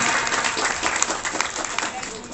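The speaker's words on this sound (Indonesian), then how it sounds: "Tepuk tangan." An audience claps at a Hindu temple gathering at Pura Kerta Bhuwana Giri Wilis in Nganjuk, a dense, fairly loud patter of many hands held throughout the short stretch without any break.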